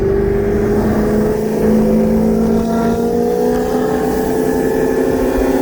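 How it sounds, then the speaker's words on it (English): A modified 2014 Nissan GT-R on factory turbos with full bolt-ons and E85 fuel, running rolling anti-lag against a 2017 Camaro ZL1 with a cam, drones loudly and close in a steady engine tone that rises slowly in pitch. "this time the GTR is gonna use rolling anti-lag and see how it does"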